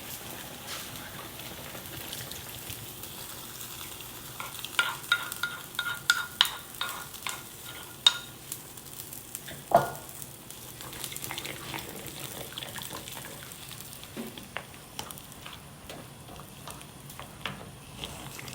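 A beef brisket, cucumber and gochujang stew is stirred in a pot, with irregular scraping and sloshing strokes over a low simmering bubble, busiest in the middle stretch.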